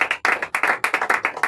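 A church congregation at a fasting and prayer service breaks into brisk, rhythmic clapping, several bursts of hands striking in quick succession, close and loud with no voices.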